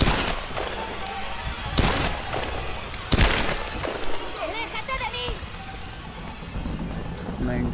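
Sporadic gunshots in the video game Tomb Raider Definitive Edition, a few sharp reports standing out over dense game ambience and murmured voices.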